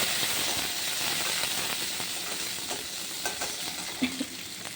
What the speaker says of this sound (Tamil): அடுத்தது வெங்காயம். நல்லா வதக்கிட்டேன்.